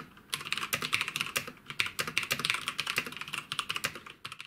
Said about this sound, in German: das Tippen mit den roten Kale-Schaltern bringt schon Befriedigung, ähneln den roten Cherry MX